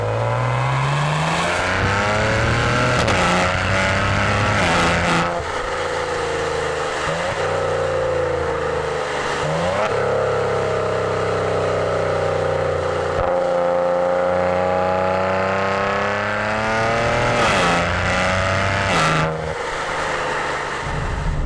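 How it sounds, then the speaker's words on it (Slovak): Maserati Ghibli accelerating, its rear exhaust giving a loud, close, continuous engine note that rises through gears with repeated revving sweeps and brief shift breaks. "Ladia tie výfuky naozaj krásne."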